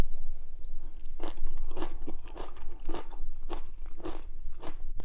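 Close, crunchy chewing of kimchi canned mackerel stew, with about seven distinct bites and crunches spaced roughly half a second apart over a low background.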